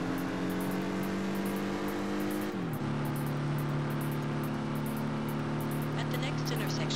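A Mustang's engine drones steadily in the Test Drive Unlimited racing game, holding a constant pitch and then dropping abruptly as it shifts, loud and continuous throughout.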